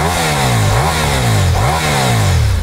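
A Ducati Diavel V4 motorcycle engine revs hard and loud, its pitch sweeping up and down in repeated surges as it accelerates, close by with no voices.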